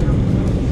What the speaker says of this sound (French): C'est parti, c'est le décollage.